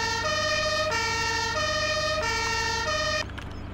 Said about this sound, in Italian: Usiamo la sirena italiana dei carabinieri.